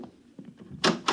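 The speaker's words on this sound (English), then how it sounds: "Close the door on your way out." A door closes in an old-time science-fiction radio drama, a couple of soft bumps followed by a louder latch and thud near the end, heard close and alone.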